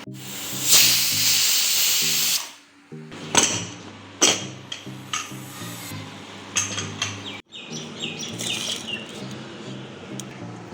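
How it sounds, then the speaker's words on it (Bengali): A pressure cooker with mutton inside hisses steam: a loud, long burst early on, then a series of shorter sharp puffs, with music playing underneath. "মাটন প্রেশার কুকারে দেওয়া হয়েছে সিটির জন্য অপেক্ষা করছি"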